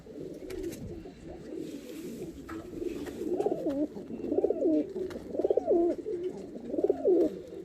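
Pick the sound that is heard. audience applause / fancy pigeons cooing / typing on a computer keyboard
fancy pigeons cooing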